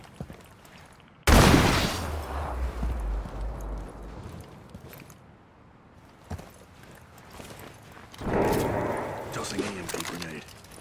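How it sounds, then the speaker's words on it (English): An EMP grenade goes off in Rainbow Six Siege: a sudden loud burst with a low droning tail, followed by quieter shuffling and a second rising burst of noise later, with voices in the background. "Tossing EMP grenade."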